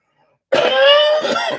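A single loud, close throat clearing that rasps into a short cough, abrupt after silence.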